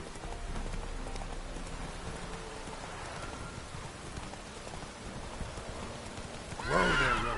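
Roach, a horse in The Witcher 3, gallops with steady clip-clop hoofbeats over a rainy backdrop, with a sharp whinny near the end.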